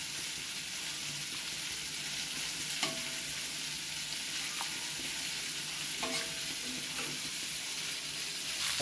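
Eggplant slices fry in a little oil in a small pan, a steady close sizzle with a few light scrapes as they are turned. No voices.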